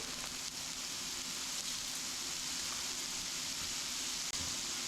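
Steak sizzling steadily in a hot pan with butter added, a continuous close, bright frying hiss that holds at an even level throughout.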